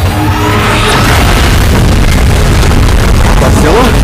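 A Godzilla beam blast in PUBG Mobile's Titans battle mode, a long, loud, roaring rush of booming noise that sweeps on for several seconds with rumbling low end and whooshing streaks.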